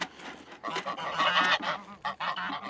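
Geese honk repeatedly on a farm that also keeps turkeys, chickens and emus, a loud, overlapping chorus of harsh calls in quick bursts with brief pauses, close by and with no one talking.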